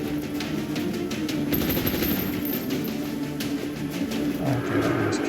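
Overwatch gunshots in the video game XCOM 2 Long War Rebalance, a rapid burst of automatic fire and several shots rattling loudly across the scene, with no talk over them.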